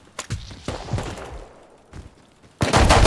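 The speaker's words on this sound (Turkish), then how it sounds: "Bir Altı patlarla beni vuruyor" Revolver gunfire in the survival game Rust: several sharp, close shots, spaced irregularly and ringing out alone, ending in a loud burst.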